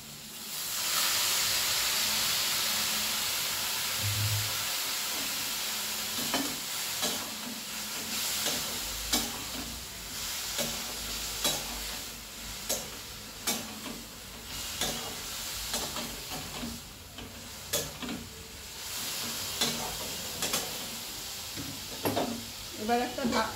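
Spices frying in a pan, with water added, give a loud close hiss and steamy sizzle that settles into repeated rhythmic stirring scrapes and knocks.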